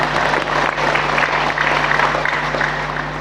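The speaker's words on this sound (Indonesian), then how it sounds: "Ya tepuk tangan untuk beliaunya ini ya." Audience applause at an Islamic sermon gathering with an army division: a dense, even wash of many hands clapping, loud and continuous throughout, with a low steady hum underneath.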